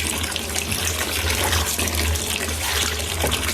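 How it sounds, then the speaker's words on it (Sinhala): Dissolved fertilizer water poured from a bucket onto scotch bonnet chili plants, a steady continuous close gush of liquid without talk. "බාල්දියකින් පැලවලට දාන්න පුළුවන්"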